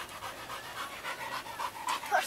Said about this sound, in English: Still panting.